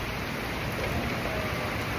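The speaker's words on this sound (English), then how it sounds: "All this rain, dude." Heavy rain pours steadily during a storm, a dense, even hiss of downpour on surfaces outside a delivery truck, with no voices.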